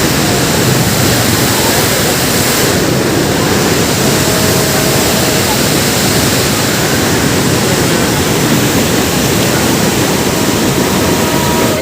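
Fast river water rushes through a canal at Qadirabad Barrage on the Chenab, a loud, constant, broadband roar that fills the whole stretch without a break.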